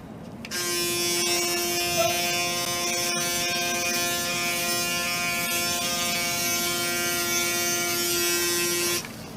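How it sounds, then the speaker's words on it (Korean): A Braun Series 9 Pro electric shaver runs steadily on evening stubble, a close, loud, even buzz with a strong hum that starts abruptly and stops near the end, with no talk over it. "오늘도 브라운 면도기로 면도 한번 해보겠습니다."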